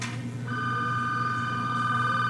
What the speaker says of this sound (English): I think I hear the phone ringing.